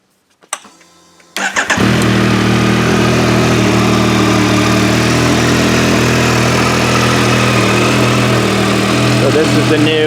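A new 2021 Yamaha MT-09 with an 899 cc engine cranks with a short starter whir, fires up and settles into a loud, close, steady idle.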